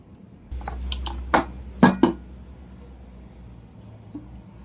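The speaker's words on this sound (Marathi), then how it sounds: "आता आपण या प्लेटमध्ये डिमोल्ड करूया" A mango rava cake is turned out of its baking tin onto a plate, giving a few sharp metallic clinks and knocks in a quick cluster, close and fairly quiet, followed by a soft tap.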